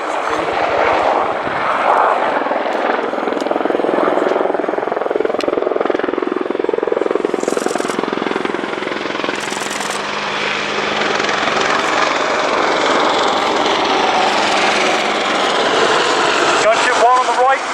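An Apache gunship helicopter makes an attack run at an airshow, its rotor and engine roar loud and sustained under a commentator's amplified announcements, with higher whining bursts as it manoeuvres.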